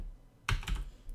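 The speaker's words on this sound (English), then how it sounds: "So what we're going to do is we're going to type" Code being typed on a computer keyboard, a short quick burst of a few close, crisp key clicks after a quiet pause, with no speech.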